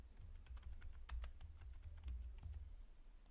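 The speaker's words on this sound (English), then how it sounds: "So I'm going to type hello world." Steady typing on a computer keyboard in a code editor, a continuous patter of close, fairly quiet key clicks with a few sharper taps, no voice.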